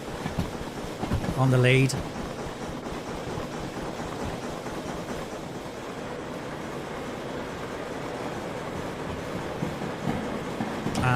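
Double-headed steam locomotives in Derail Valley run with a steady rumbling, clattering rail noise throughout, a whistle-like tonal blast near the start, and a voice speaking briefly over it.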